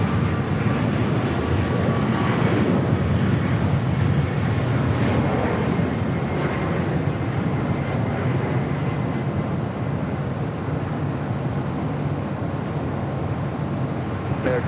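A Delta Airbus A220-300 airliner at LAX gives a loud, continuous jet roar that stays steady the whole time, with only a slight easing toward the end.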